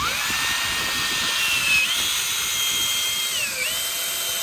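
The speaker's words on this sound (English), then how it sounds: "we're literally going to drill this" A power drill whines steadily up close, its pitch shifting slightly as the bit bores into a pergola's wooden beam, continuous and loud throughout.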